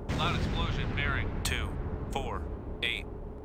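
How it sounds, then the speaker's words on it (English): Heavy, muffled explosions rumble low and continuously in a submarine combat video game, with a calm synthetic voice giving reports over the roar. "Loud explosion, bearing"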